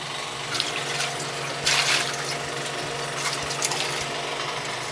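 Water runs from a household tap at low pressure, a steady thin hiss and trickle heard alone throughout, with a few brief splashy surges near the middle.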